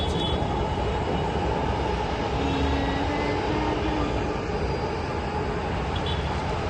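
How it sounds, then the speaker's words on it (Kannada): A metro train rolls past on an elevated line heading toward Electronic City, heard from a rooftop terrace as a steady, broad rumble that holds evenly throughout, moderately loud and unbroken, with no talking over it. "ಮೆಟ್ರೋ ಹೋಗ್ತಾ ಇದೆ ನೋಡಿ ಗೈಸ್."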